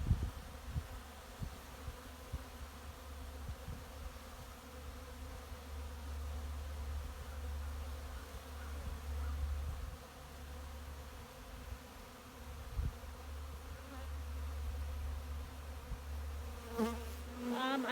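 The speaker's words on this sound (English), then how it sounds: "The bees are busy today." Honey bees buzzing around hives while being fed sugar syrup in the open, a steady low droning swarm hum close by, continuous with slight swells, no talk.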